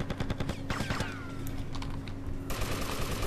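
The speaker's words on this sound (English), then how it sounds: "Oh, the paramedic has an M16." M16 rifle fire in the video game GTA Vice City, rapid bursts of shots at a steady rhythm with clicking keys underneath, then a sustained rattle of fire toward the end.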